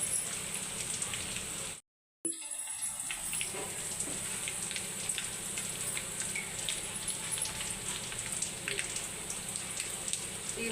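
Ingredients frying in a pan until golden while making gongura pickle, a steady, dense sizzle that runs the whole stretch, broken by a brief silent cut near the start, with no talking.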